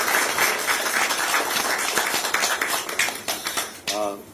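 Audience applause at a Korean political rally, steady dense clapping throughout, with a voice cutting in near the end.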